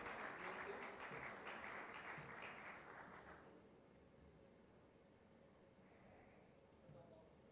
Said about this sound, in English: Please give a big round of applause for all the hard work that has gone in this year.